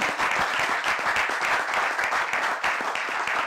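Loud, sustained applause from a studio audience at a French talk show, dense clapping that continues evenly without pause from start to finish.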